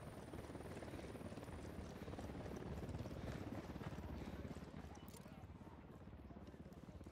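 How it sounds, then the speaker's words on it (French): A helicopter approaches in the video game Ghost Recon Wildlands, its rapid rotor chop throbbing steadily and swelling louder toward the middle, with speech over it. "Un hélico qui arrive."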